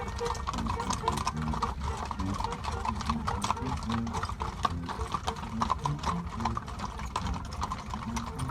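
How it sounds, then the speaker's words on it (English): Many horses walk in a street procession during a mountain festival in Hidalgo, Mexico, their hooves clip-clopping in a steady overlapping patter under a crowd murmur and nearby voices. "every time they launched a firework, more horses would join the procession"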